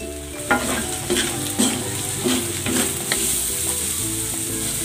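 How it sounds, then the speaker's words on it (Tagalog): Carrots sauté in a hot frying pan, a constant sizzle broken by rhythmic scrapes and taps of a spatula stirring them. "Igigisa ko na tong carrots."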